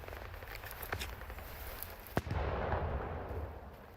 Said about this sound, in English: Damn, that explosion sounded hefty.